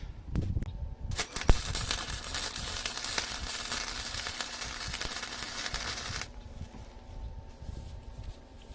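Arc welding on the steel frame of a manual log hauler, a continuous loud crackling buzz lasting several seconds, preceded by a few clicks and followed by quieter ambient noise.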